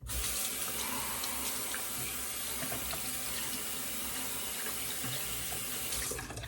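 A faucet runs steadily, a continuous hiss of water splashing into a sink that holds even for several seconds, then cuts off.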